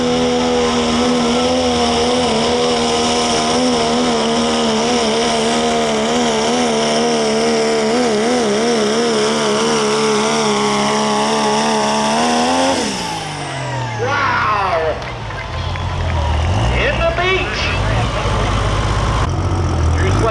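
A 3.0 diesel pickup truck roars down the track at a Pro Pulling League truck pull in Tampico, Indiana, its engine note loud and sustained, climbing and wavering before dropping off abruptly near the end into rumbling and crowd noise.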